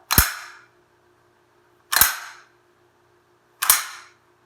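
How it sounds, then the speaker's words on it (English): Handgun slide racked three times at steady intervals, each a sharp, close metallic snap with a short ringing tail, set apart by quiet pauses. "you're going to grab the slide behind the ejection port, rolling the ejection port to the right"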